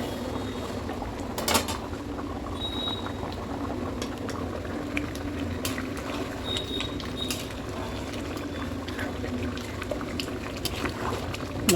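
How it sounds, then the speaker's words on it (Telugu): Donne biryani boils in a covered pot, a steady close bubbling and gurgling with faint clinks of the lid, continuous and moderately loud. "మూత పెట్టి బాయిల్ చేసుకున్నాం."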